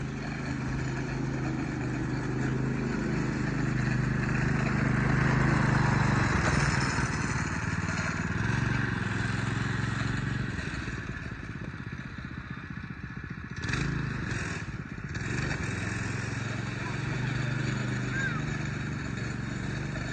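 Go-kart driving nearby with a steady buzzing small engine and clattery rattling, the engine rising and easing across the run, a voice talking over it.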